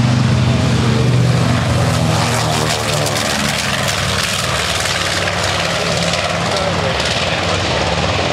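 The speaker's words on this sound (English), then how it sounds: "The B-25 taking off now." A B-25 bomber taking off at a warbird airshow on a beach, its piston engines roaring loud and steady with shifting propeller tones, and an announcer talking over the noise.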